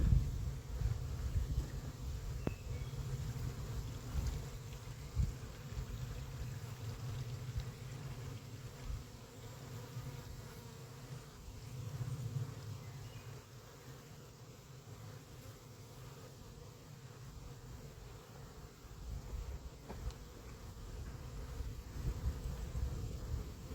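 Honeybees buzz around an open hive during a queen-rearing session. The hum is a steady, fairly soft drone that carries on without a break, and no one speaks.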